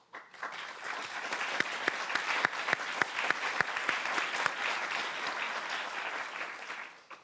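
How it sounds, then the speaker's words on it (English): A conference audience applauds after a talk, sharp individual claps standing out over a steady, moderately distant wash of clapping that builds, holds, then tapers off near the end. "I hope you heard the applause to recognize your brilliant analysis"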